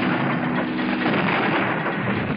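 Stock-footage explosion from a low-budget movie, a sustained roaring blast that fills the whole clip at steady loudness, heard alone without voices.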